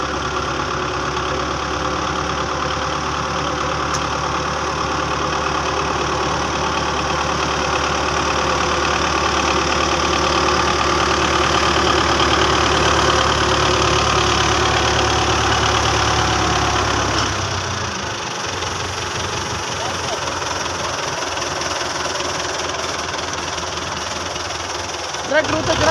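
A tractor engine idles steadily and close, a constant low rumbling drone with knocking vibration while the tractor trolley sits stuck under its load; the engine note drops and shifts near the end.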